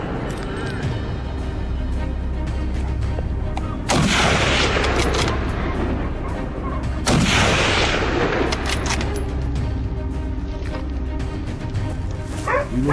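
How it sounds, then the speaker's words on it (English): Two loud, sharp gunshots crack across open country during a wild boar hunt by French farmers, with dogs barking and voices heard throughout. "Gunshots rang out continuously."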